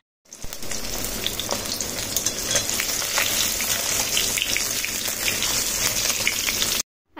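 Fish frying in hot oil under a lid, a dense continuous sizzle with crackling pops, steady and close, ending abruptly.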